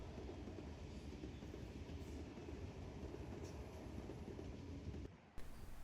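A Sydney Metro train rumbles steadily past on the tracks near Sydenham Station, a continuous rolling clatter at moderate distance that cuts off near the end.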